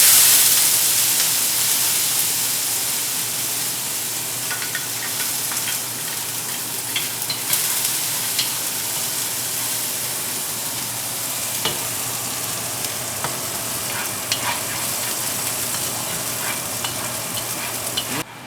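Ginger, garlic and scallions fry in a hot pan with a loud, constant sizzling hiss. The hiss stays close and even throughout, with small pops and crackles scattered over it.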